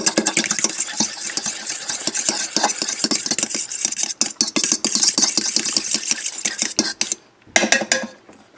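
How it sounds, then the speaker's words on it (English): Eggs whisked briskly in a bowl for peanut butter brownies, a loud, rapid, rattling clatter of the whisk against the bowl, steady for several seconds, then breaking off into a few final taps. "Next, whisk up the eggs"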